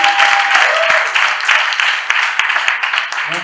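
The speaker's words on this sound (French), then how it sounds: "Acclame encore bien!" A church congregation applauds at a Sunday service, a dense burst of clapping that stays loud throughout, with a voice briefly audible over it.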